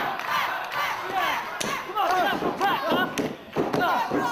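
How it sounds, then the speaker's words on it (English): Wrestling fans cheer and shout in a crowd at a live FWA event, a dense roar of many voices with yells rising and falling. Thuds from the ring and a commentator's talk sit over the crowd noise. "And you can hear the fans cheering for Pack."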